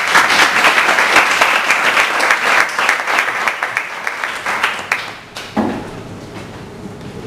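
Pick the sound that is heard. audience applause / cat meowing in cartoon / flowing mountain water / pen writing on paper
audience applause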